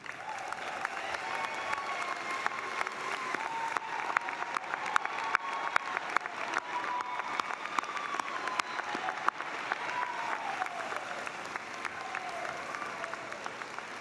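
A commencement audience at a business school ceremony applauds the standing award recipients, a sustained, even wash of clapping with scattered sharper claps, lasting the full stretch at moderate volume.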